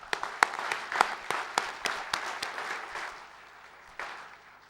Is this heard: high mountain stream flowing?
no